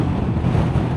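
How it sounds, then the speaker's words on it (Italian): Strong gusting wind buffets the microphone while riding a 2026 Royal Enfield Hunter 350 motorcycle on a windy day, a loud low roar that stays dense and continuous with no speech. "Oggi veramente giornata ventosissima"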